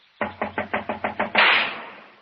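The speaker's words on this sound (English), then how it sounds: "Door's locked. Knock again, if you don't mind." A rapid series of seven sharp knocks on a locked wooden door, close and loud, evenly spaced, followed by a sudden heavy crash or bang that rings out and fades; part of an old-time Sherlock Holmes radio drama.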